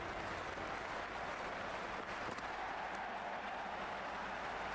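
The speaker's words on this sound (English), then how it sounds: "The crowd are making a heck of a lot of noise even before the first ball's been bowled" Simulated stadium crowd noise from a cricket video game, a faint, steady murmur with light applause before the first ball, an even ambient roar that runs throughout.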